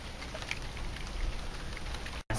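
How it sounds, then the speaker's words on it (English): Steady rain falling with wind, a dense even patter on surfaces with no voices, broken only by a very brief dropout near the end. "This is weather because it is raining and it's windy."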